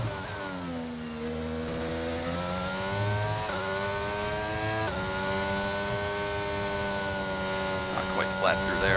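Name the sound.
F1 car engine overtaking, from video game F1 22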